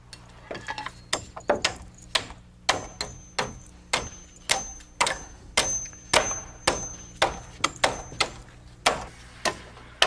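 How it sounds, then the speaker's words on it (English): Hammer nailing overlapping lengths of roof purlin together on a house roof frame, a steady run of sharp, loud, evenly spaced blows heard close up. "One piece of purlin isn't long enough, so we add another piece, lapping 2 or 3 rafter bays and nail them together"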